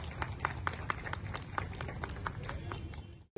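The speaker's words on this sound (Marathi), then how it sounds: "आपण पुन्हा एकदा सर्वांनी जोरदार टाळ्या वाजवायच्या" A crowd at a palanquin ceremony claps in rapid, uneven bursts, the sharp hand claps close and dense over a low murmur of voices before stopping abruptly.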